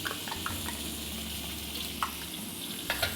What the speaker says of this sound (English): and then just cook the curry paste in the oil first